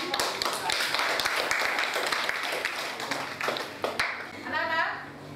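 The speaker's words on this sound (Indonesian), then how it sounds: "Tepuk tangan untuk kelompok." A classroom of students applauds a presenting group, with sharp, scattered claps and voices talking over and around them, tapering off toward the end.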